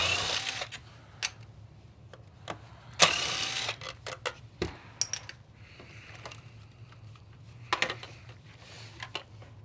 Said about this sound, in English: these screws right here are really where the impact gun is useful if it's an older machine